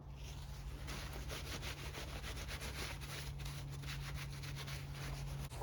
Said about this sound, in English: Bit of acetone to clean off that adhesive from.